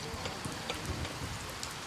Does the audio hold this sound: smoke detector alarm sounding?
no